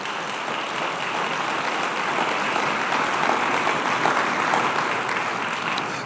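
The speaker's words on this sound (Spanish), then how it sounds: "Dale aplauso al Señor." Church congregation applauding during a sermon, a dense, steady wash of many hands clapping that continues evenly throughout, loud and enveloping.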